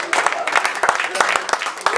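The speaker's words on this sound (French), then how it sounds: "Continuons d'applaudir, s'il vous plaît, le président." Audience clapping for a president after a New Year's address to the nation, a close, uneven patter of hands with individual claps standing out, voices mixed in.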